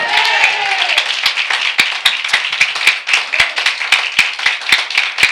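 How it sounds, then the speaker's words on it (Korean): A church congregation at Sunday worship claps in a steady rhythmic beat, loud and close, with a voice at the start and the claps keeping even time after it. "우리 주님께 박수로 영광 돌리겠습니다"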